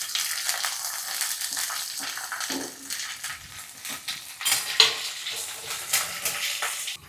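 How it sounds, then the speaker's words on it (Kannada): Onion and curry leaves frying in oil in a pan, a steady hiss and crackle with occasional scrapes and clinks of a utensil against the metal, close and continuous, with no talking. "ಆಮೇಲೆ ಈರುಳ್ಳಿ ಮತ್ತು ಕರಿಬೇವಿನ ಸೊಪ್ಪು ಜೊತೆಗೆ ಹಾಕ್ತೀನಿ"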